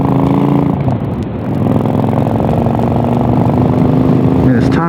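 A Honda Shadow motorcycle engine runs steadily and loudly up close on a day after the first snowfall, its low droning hum continuous throughout, with a brief dip midway.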